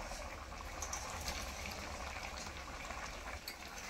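Mustard-and-poppy fish curry broth with black brinjal comes to a steady, even boil in a pan, giving a continuous close bubbling hiss that holds at the same level throughout, with no talking.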